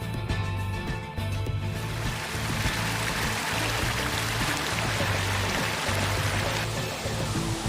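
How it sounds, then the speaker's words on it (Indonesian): Steady, full rushing roar of a waterfall at Wasan Hutuni in Manusela National Park, Maluku, constant and close with no break or voices. "air terjun di Wasan Hutuni"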